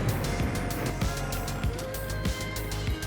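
Harley-Davidson motorcycle cruising in fourth gear at nearly 60 mph, giving a continuous engine rumble mixed with strong wind rush, recorded fairly faintly from the rider's position with no voices.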